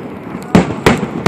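Fireworks explode at a public display in three loud, sharp bangs spaced roughly a third of a second apart, each with a short crackling tail.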